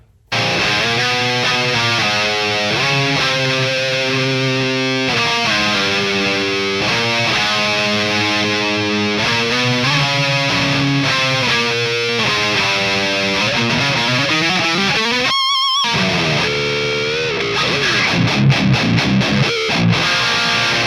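A Squier Jim Root Telecaster electric guitar plays sustained chords and riffs, mostly with a heavy distorted tone and a few short breaks and choppy passages near the end, loud with no talking.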